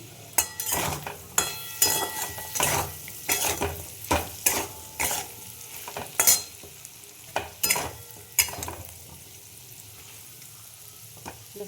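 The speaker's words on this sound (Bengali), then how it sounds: "দেখ আলুগুলো ভাজা হয়ে গেছে" New potatoes fry in a pan while a utensil stirs them in repeated sharp scrapes and clinks over a low sizzle, close and fairly quiet, with no talking.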